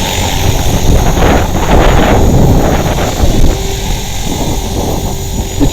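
A radio-controlled 450-size helicopter with double rotor blades hovers nearby in gusty Northern Irish wind, its whining rotor and motor buffeted by loud wind noise that swells and fades.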